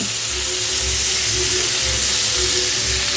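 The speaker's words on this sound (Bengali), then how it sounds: "এবারে নুন আর হলুদের সঙ্গে এই ফুলকপিগুলো একটু ভালো করে ভেজে নিতে হবে" Cauliflower florets frying in hot oil with salt and turmeric, a steady close hiss and crackle of sizzling with no breaks or voices.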